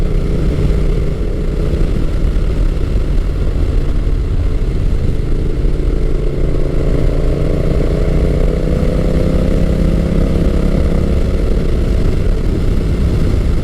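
Honda Rebel 1100 DCT motorcycle under acceleration, a loud sustained engine drone with slowly rising pitch as revs climb, close and continuous with no speech.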